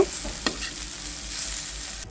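Pumpkin pieces fry in a pan with a steady hiss, one brief scrape of stirring early on and the sizzle running on evenly before it cuts off.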